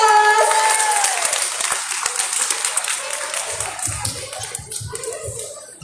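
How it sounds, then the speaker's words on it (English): An audience at a children's storytelling competition applauds, a burst of clapping that starts full and gradually thins out to scattered claps over a few seconds. "Let's give her a big round of applause."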